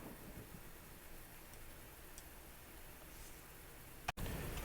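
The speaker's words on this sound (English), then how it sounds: "Weather's not great. You can hear the storm." Steady rain and storm rumble fill a thunderstorm scene in the Civil War strategy game Grand Tactician, a continuous wash of noise with a brief sharp crack near the end and no voices.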